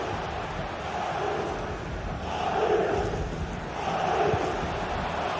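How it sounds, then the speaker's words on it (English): Football stadium crowd at a video game match, a broad roar of many voices that swells twice as a chance to equalise builds, steady and enveloping with no distinct single voice. "just listen to the crowd. They know this is a big chance to equalise"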